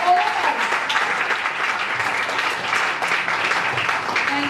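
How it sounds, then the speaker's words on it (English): A hospital Foundation Day audience breaks into a full round of applause, dense continuous clapping from many hands held at an even level, with a faint murmur of voices underneath. "A big round of applause for all of us."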